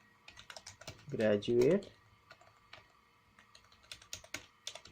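Typing on a computer keyboard while filling in a bio data form in MS Word, with light, irregular clicking keystrokes close by and a brief stretch of talk over them.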